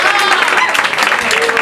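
An audience claps in steady, dense applause that fills the whole moment, loud and close.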